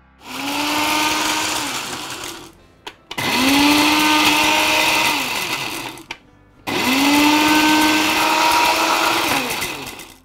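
An electric kitchen blender grinds gond katira and mishri in three loud bursts, each a high whirring roar that spins up and runs a few seconds before cutting off, with short pauses between.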